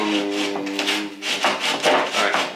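A hand-held sawzall blade used as a keyhole saw cuts through drywall with a series of rough, rasping back-and-forth strokes, close and moderately loud. A tonal hum fades out during the first second.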